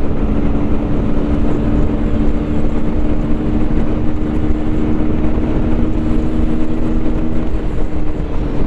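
A QJ Motor SRK125 R motorcycle engine drones steadily at high revs while riding, a sustained near hum with wind rush layered over it and no clear change in pitch.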